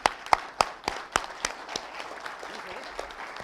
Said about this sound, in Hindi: तो एक बार सब खड़े होकर इनके लिए जोरदार ताली जरूर बजाएं